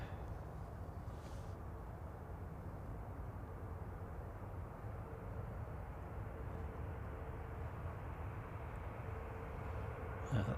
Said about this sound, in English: Heading off to Amsterdam, flight 2167 A320 for EasyJet.